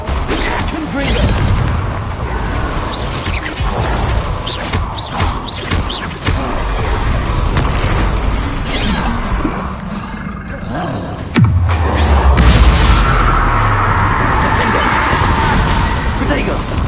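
The Confringo blasting spell goes off in Hogwarts Legacy as a sudden, loud burst with a deep rumble partway through. It stands out amid game effects and voices.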